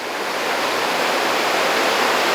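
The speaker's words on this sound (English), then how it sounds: "just a very small waterfall coming into this lovely pool that would be a favourite in summer" A very small waterfall pours into a pool that feeds toward the Kangaroo River, giving a loud, steady, close hiss of falling water with no pauses and no voices.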